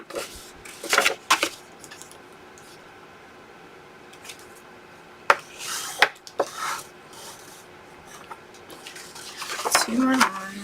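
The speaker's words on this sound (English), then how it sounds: "I'm just burnishing my lines" A bone folder or burnishing tool rubs along fold lines on paper for an interactive folio, giving several short scraping strokes in bursts, with quieter stretches between and a firmer cluster of rubbing near the end.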